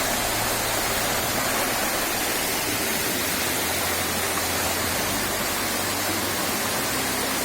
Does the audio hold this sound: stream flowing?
yes